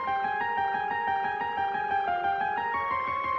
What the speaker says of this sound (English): An ARP using the lo-fi whirly keys.